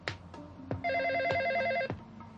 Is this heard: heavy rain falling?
no